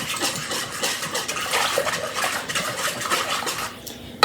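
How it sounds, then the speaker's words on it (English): A whisk scraping and clinking steadily against a pan while flour is beaten into milk for mac and cheese, a continuous busy stirring rattle heard up close with no voices. "And whisk in the flour with the milk"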